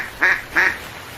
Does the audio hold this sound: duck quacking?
yes